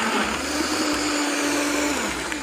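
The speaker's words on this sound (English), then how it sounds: "So just put the pine right in your blender." A blender runs steadily at full power, chopping pineapple with coconut water in a continuous loud, even whir without pauses.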